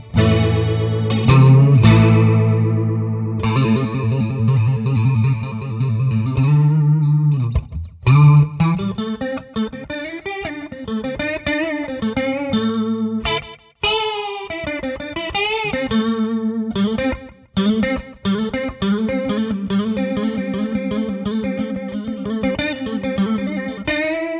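A Slick SL 50 electric guitar on both pickups plays chords and riffs through heavy chorus and distortion effects, steady and loud with brief gaps between phrases.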